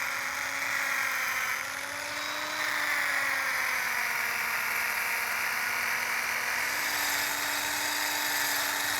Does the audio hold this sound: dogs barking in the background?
no